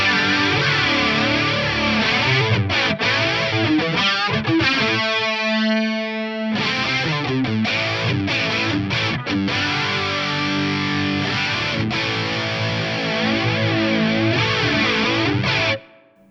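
Electric guitar run through a BOSS CE-20 Chorus Ensemble in CE-1 mode with distortion, playing loud, shimmering driven chords and a sustained held note, then ending abruptly.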